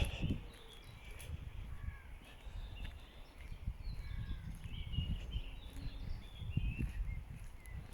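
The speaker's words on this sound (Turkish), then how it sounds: "Kuş sesleri, orman cıvıltısı." Scattered bird calls and chirps ring out over a low, rumbling outdoor background in a forest in Denmark, including a few harsh caws in the distance.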